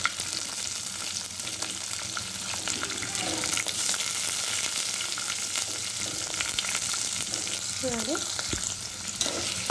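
Onions and green chilies frying in a pan with a few curry leaves: a steady, loud sizzling hiss, broken by scattered stirring clicks and scrapes throughout.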